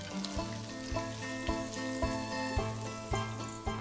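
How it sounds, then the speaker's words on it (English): Cider poured into a hot frying pan to deglaze it sizzles steadily up close, a continuous frying hiss with a faint rhythmic musical backing. "Deglaze the frying pan with the cider and pour over the rabbit"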